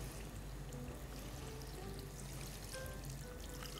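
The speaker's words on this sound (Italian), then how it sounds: "copro con l'acqua" Water poured from above over chopped tomatoes in a pot while making risotto with scampi cream, a steady continuous splashing gush that stays close and even throughout.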